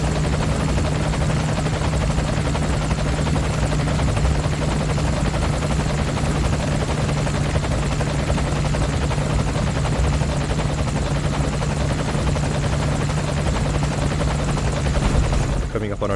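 Steady, loud rotor drone from a helicopter in flight in the Metal Gear Solid V video game, heard from inside the cabin as a constant heavy thrum that holds unbroken for the whole stretch, with a voice talking over it.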